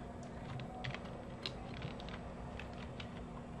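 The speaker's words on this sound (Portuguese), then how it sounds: "Eu vou digitar o texto na meta." Typing on a computer keyboard while entering text into a spreadsheet pivot table, with soft, irregular key clicks over a steady low hum.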